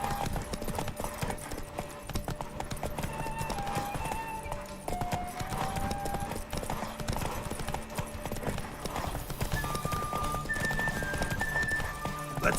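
Roach, Geralt's horse in The Witcher 3, gallops in a steady clip-clop of hooves through a derby race, loud and continuous over game music, with a brief whinny and faint voices in the background.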